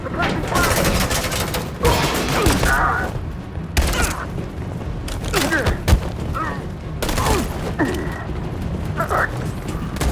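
Suppressing gunfire in Detroit: Become Human, sustained loud bursts of shots with booms and thuds, broken by pauses and overlapping shouted voices.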